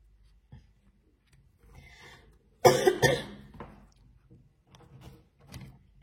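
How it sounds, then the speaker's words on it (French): A person coughs twice in quick succession, loud and close, in an otherwise quiet room, followed by some softer breathing and faint throat sounds. "Excusez-moi pour la toux"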